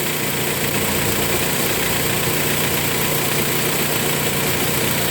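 An idling car engine with an automatic transmission and a strong vibration fault runs in a loud, steady, close rumble with a dense rattling texture throughout and no pause, and no voices are heard.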